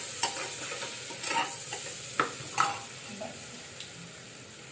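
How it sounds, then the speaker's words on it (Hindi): Turmeric powder is stirred into oil in a frying pan, a steady soft sizzle with scattered spoon scrapes and taps against the pan, close by and fairly quiet. "बस इतना सा डालूंगी मैं हल्दी पाउडर, उसे एक बार स्टर्ड करूँगी।"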